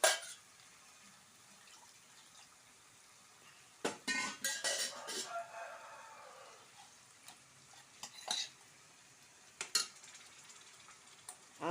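Water is poured into a bowl and stirred, heard as quiet clinks of a utensil against the bowl and several short scraping bursts separated by near-silent pauses.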